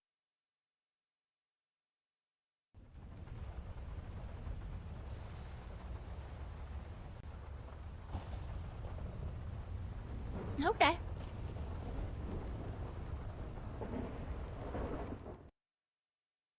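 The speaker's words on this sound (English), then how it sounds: "I can only wonder what the thunder sounds like." Steady rain hisses through a thunderstorm in the video game RedlineRP, with a sharp, close crack of thunder cutting through midway; a voice speaks briefly over the storm.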